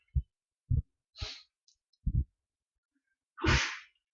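Several short, sharp sneezes in a quiet room, the last one louder and longer, followed by a breathy exhale.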